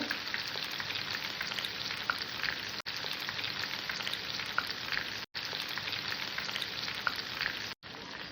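Chicken legs frying in a pan on low heat and being turned: a continuous, even sizzle and crackle, close and steady, broken by a few brief gaps.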